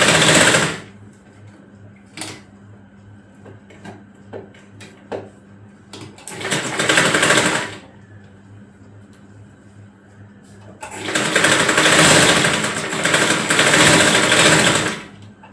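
A sewing machine stitches a seam on a frock for a five-year-old girl, running in two loud sustained bursts separated by quieter handling clicks and knocks of fabric and machine parts.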